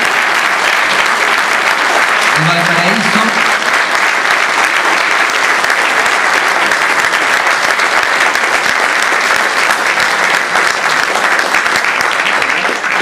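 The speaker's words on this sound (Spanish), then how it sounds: "un gran aplauso para la compañía de teatro La Dama Juana" A theatre audience gives loud, sustained applause for the company after a performance of La Remolienda in San Antonio, continuous dense clapping with a brief voice heard early on.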